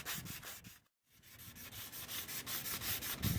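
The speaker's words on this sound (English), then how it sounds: "we're going to sand it off using some emery cloth" Emery cloth rubs across a fiberglass boom arm during a Fiberspar twist lock repair, making close, rhythmic scratchy strokes with a brief pause near the start before the sanding resumes.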